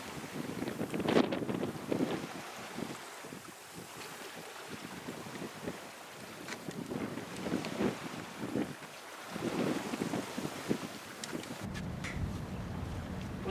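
A sailboat under way offshore on a long passage, with gusting wind buffeting the microphone and waves washing against the hull in surging swells, loud and close, with no talking.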